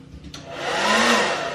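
A hair dryer whirs up to full speed after a short thump from being dropped, its steady airy roar swelling loud and close.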